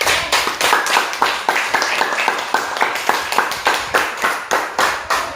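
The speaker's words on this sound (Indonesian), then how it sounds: "Tepuk tangan untuk kelompok jantung" A small group of students in a classroom claps in unison with a steady rhythmic beat, about three claps per second, close and loud with no talking.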